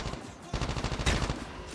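Rapid gunfire rattles in a shooter game, a dense burst of shots running through the moment at close range, with game audio filling the background.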